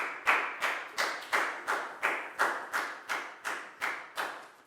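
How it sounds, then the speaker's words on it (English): A primary school math class claps for a student named Lakgao in a slow, steady unison rhythm, about a dozen sharp, evenly spaced claps with no talking over them. "High five and a big round of applause for Lakgao,"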